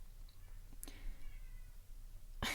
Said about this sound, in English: I hope you can't hear my cat.